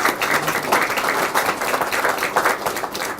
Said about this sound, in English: let's just give a hand clap for that